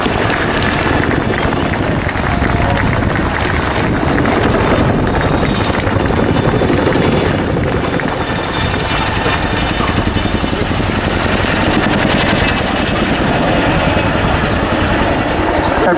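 A Chinook helicopter flies a display at RAF Waddington air show, a loud continuous rotor roar with wind buffeting throughout, sustained and steady over the whole stretch.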